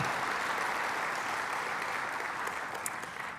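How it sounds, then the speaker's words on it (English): An audience at the South Carolina Opportunity Zone Summit applauds during a speaker introduction: dense, sustained clapping from a large crowd that stays loud throughout and eases off slightly at the end. "Can we give Tim Scott a big round of applause?"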